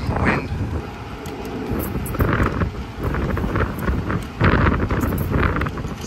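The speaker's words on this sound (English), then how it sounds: "Damn wind." Outdoors during an HVAC refrigerant leak repair, gusting wind buffets the microphone with a loud, rumbling, uneven roar that rises and falls throughout.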